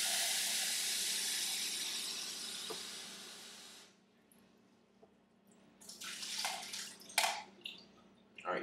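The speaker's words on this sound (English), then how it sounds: "you want to fill it up with water" Water runs steadily from a tap for several seconds while filling a coffee maker's carafe, then stops, followed by a few sharp clinks and splashes of handling nearby.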